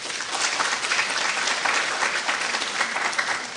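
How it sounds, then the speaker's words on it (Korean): An audience at a Korean hospital health lecture on breast cancer applauds a professor's introduction, steady loud clapping from a full room for several seconds. "큰 박수 부탁드립니다."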